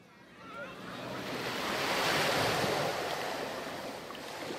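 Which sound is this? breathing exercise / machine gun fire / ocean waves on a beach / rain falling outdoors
ocean waves on a beach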